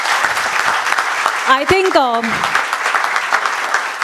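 Audience applause fills a hotel hall at a seminar's inaugural function, a steady wash of clapping throughout while someone speaks briefly over it.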